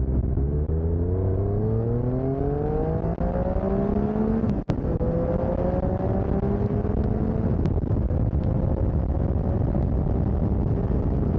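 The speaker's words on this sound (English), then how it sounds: "Let's do a little 0 to 60 acceleration test." Triumph Tiger 1200 motorcycle accelerating hard from a stop up to 60 mph, loud and close, engine pitch climbing in repeated sweeps through the gears over steady wind rush, with one sharp click partway through.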